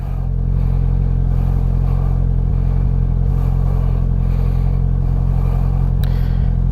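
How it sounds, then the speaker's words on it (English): A Polaris Slingshot's engine rumbles steadily and loudly throughout, a deep continuous drone with faint clatter, as it sets off on a cold winter ride. "this is gonna be my first cold ride in the Slingshot"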